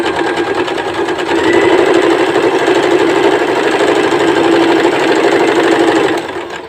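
A sewing machine stitches steadily along a folded fabric edge, a loud continuous mechanical whir with a rapid needle rhythm that runs without pause for several seconds before easing off at the end.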